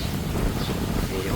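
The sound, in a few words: breeze blowing outdoors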